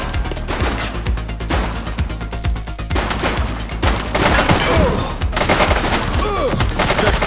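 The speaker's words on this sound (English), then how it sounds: "He's shooting!" A suspect's rapid gunfire in The Precinct, dense volleys of loud, close shots mixed with automatic bursts and debris, continuing without a break over busy game noise.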